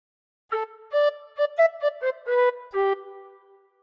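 A tin whistle plays a phrase of We Wish You a Merry Christmas, a run of about eight clear, bright notes blown gently, some short and some held, close and alone with no talking.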